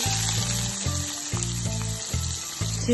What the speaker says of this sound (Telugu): ఉల్లిపాయలు కొంచెం వేగాయి.